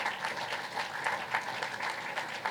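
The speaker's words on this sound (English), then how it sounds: "we can give those ladies a great round of applause" An audience at a cancer center ribbon cutting ceremony applauds steadily, many hands clapping in a soft, continuous patter heard from some distance.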